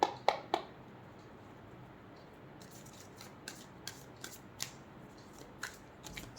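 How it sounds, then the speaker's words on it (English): An oracle card deck being handled, with a few sharp snaps at the start, then soft scattered flicks and taps of cards being shuffled and pulled, close and quiet in a still room. "Let's pull my What's the Tea deck."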